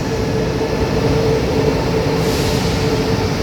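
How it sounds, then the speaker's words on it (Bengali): A high-speed train draws into Yiwu railway station in China, producing a steady, heavy rumble and rolling hum that fills the station without letting up. "এই ট্রেনটা এখন থামাবে এখানে"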